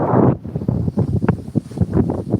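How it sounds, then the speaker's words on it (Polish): Cold gusting wind buffets an outdoor microphone, loud rumbling bursts that swell and drop in uneven waves throughout, with no voices. "Słychać to, nie? Nieźle to słychać, nie? Te podmuchy wiatru."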